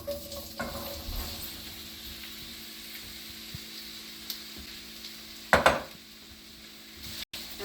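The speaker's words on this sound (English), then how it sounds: "So we're gonna go ahead and add our zucchini." Sliced zucchini fries in hot olive oil in a deep pan over medium-high heat, giving a steady soft sizzle with a couple of sharper crackles and utensil scrapes partway through.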